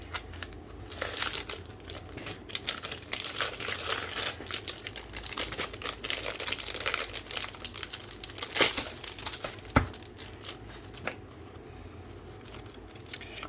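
Large, strong sheets of a grid notepad are handled up close, with crinkling, rustling and crisp snapping of paper in busy bursts and a few sharp flicks, no voices.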